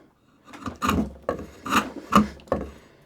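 Draw knife shaving wood on its bevel, five or six short rasping strokes in a steady rhythm, close and fairly loud with no talk.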